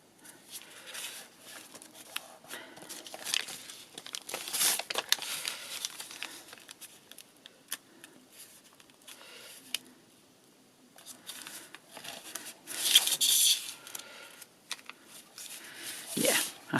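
Paper being folded and creased by hand for a mini art journal, with intermittent crinkling and soft rustling bursts at close range, fairly quiet throughout.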